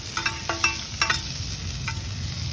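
Shellfish (hoy tod) fries on a hot pan at a made-to-order food stall in Hat Yai, giving a steady sizzle broken by a few sharp scraping clatters of stirring, close up with no talking.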